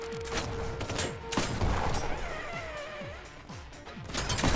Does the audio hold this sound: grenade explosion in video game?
yes